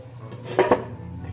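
A lid set onto a cooking pot holding mackerel simmered in coconut milk with string beans, making two quick close metallic clanks in a row and then a faint hum of cooking.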